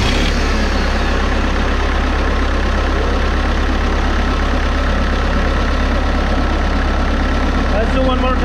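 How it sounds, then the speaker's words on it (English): Kubota V2203 diesel engine on a Bobcat skid steer loader, heard as a steady, loud, close idle with a constant low rumble throughout. "let's go start the engine and see how it starts"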